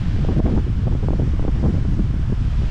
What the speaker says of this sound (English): You can hear the crazy wind though